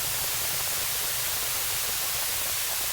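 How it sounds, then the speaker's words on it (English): Synthesized rain effect built for sound design, a steady wash of broadband hiss like dense static, held at a low, attenuated level with no talk over it. "Let's attenuate the rain a little."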